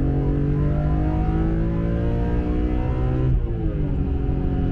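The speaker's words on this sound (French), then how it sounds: "Un truc qu'ils ont fait, qui paraît tout de suite, c'est le bruit du moteur." BMW E46 M3 CSL straight-six with carbon airbox revving on the road, a loud, close, harmonic-rich engine note climbing steadily, briefly dropping and then rising again, with no talk.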